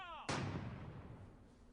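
A single heavy boom of an artillery salvo hits abruptly and rolls off into a fading rumble, distant-sounding and muffled, after a brief moment of quiet.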